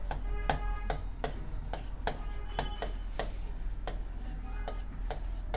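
Chalk taps and scrapes on a classroom board in short, irregular strokes under a steady low hum, close and moderately loud, with no talking.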